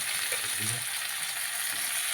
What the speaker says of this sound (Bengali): আলুগুলো ভালো করে ভাজা হয়ে গেছে